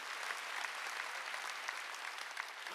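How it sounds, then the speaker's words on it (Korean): Steady applause from a church congregation at a Sunday worship service, a dense even clatter of many hands held at moderate level without voices. "박수."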